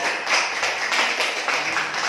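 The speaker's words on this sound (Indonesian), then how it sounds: "tepuk tangan buat Pak Selamat" Applause from a school staff audience at a training session, a dense steady patter of many hands clapping nearby, continuous through the moment with no voices over it.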